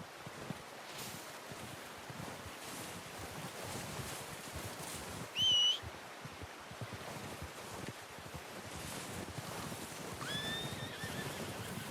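A horse in Red Dead Redemption 2 gives a short, sharp neigh over a quiet outdoor ambience of soft rustling and faint hoof movement, with another fainter whinny later on.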